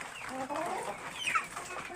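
Large roosters clucking and murmuring in a steady, busy stream, fairly close on a poultry farm, with bits of faint background chatter mixed in.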